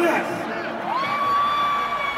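A large concert crowd at a show in Atlantic City cheers and shouts from a distance, with a rising whoop or whistle standing out above the steady roar.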